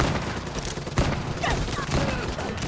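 Video game gunfire from a primary weapon crackles as a steady stream of rapid shots amid game sounds, with faint talking underneath.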